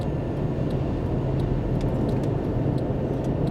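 Steady broadband road roar of traffic rolling past on a highway, heard from a vehicle pulled over to the right with a trailer, loud and continuous with no talk.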